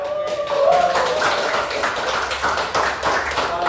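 A group claps together in a quick rhythmic pattern, the claps dense and close, sustained for several seconds.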